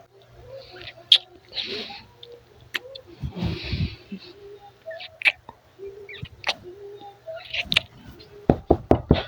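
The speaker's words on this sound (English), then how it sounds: "all of a sudden there's a knock at your door, or at his door" Several sharp knocks at a door, scattered through a quiet room with faint rustles, ending in a quick run of loud, close raps.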